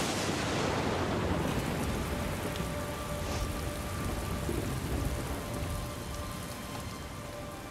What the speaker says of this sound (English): a violent storm blows into the canyon